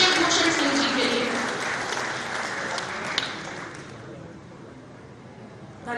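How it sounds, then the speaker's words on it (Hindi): Audience applause at a Madhya Pradesh state award ceremony, a sustained burst of clapping from a crowd that swells at the start and gradually thins out over several seconds, with no talk over it. "एक बार जोरदार तालियां हो जाए"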